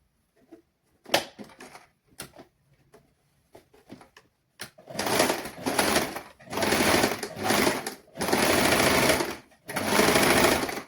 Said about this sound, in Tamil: இந்த பகுதியை நாங்கள் அப்படி தைச்சிட்டு பார்க்கலாம்